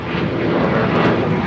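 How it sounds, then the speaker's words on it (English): Loud, steady roar of an American Airlines jet taking off at LAX, a broad continuous engine rumble holding level and close throughout with no voices. "This is American Airlines 2872 taking off to Chicago O'Hare"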